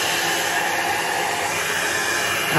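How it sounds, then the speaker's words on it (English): A hair dryer drying an alcohol ink painting blows with a steady, loud, close-up whooshing roar that holds level throughout. "Didn't get my hair dryer on."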